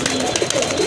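Fancy and Rajgolla pigeons cooing in a brief, close, loud burst of low throaty coos over dense background noise.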